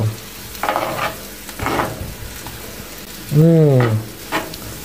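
A meatball and chestnut mixture is stirred by hand in a bowl, giving soft, wet squelching in short bursts. A brief voiced sound breaks in near the end.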